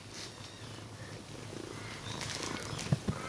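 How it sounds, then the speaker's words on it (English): A cat purrs close by, a soft continuous rumble at low level with a couple of faint bumps near the end. "Good cat, you'd be a good kitty."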